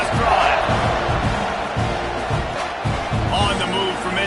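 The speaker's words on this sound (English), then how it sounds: "this crowd is feeling themselves after that last drive" A stadium crowd at a Texas A&M football game roars and cheers continuously, loud and close, while an announcer talks over the din.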